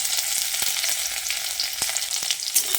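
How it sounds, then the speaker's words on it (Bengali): Chopped garlic fries in oil with a steady, close hiss and crackle, marked by a few light stirring taps, and no voices. "রসুনটা দিয়ে একটু সোনালি করে ভেজে নিতে হবে"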